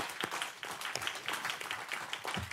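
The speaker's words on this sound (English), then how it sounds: "let's everyone please just give them both a round of applause" Faint, steady applause from a council meeting audience, soft scattered clapping that continues throughout.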